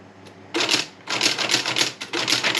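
An Olympia typewriter, SKM or SKE Report de Luxe model, has paper fed in through its rollers: bursts of dense mechanical clattering and whirring, close and loud, separated by short pauses.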